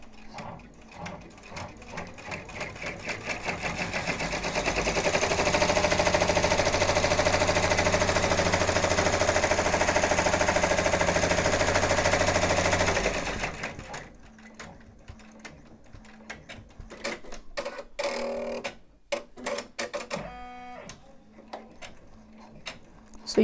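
Embroidery machine stitching a faux leather applique, a loud, steady mechanical rattle of rapid needle strokes running for several seconds before stopping, followed by scattered clicks and handling noises close by.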